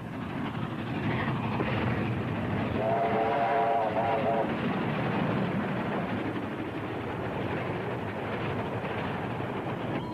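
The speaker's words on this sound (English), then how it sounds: "hurry up, Mr. Lee, if you want to catch that train" Steady rumble of a train with a brief whistle sounding midway, heard under muffled background noise and indistinct voices.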